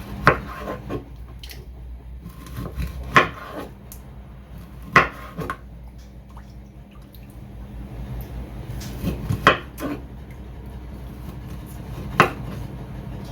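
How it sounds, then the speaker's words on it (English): A knife chopping food on a board in a home kitchen while cooking dinner and ugali, with scattered sharp knocks at irregular intervals over a low background. "I like to chop it this way"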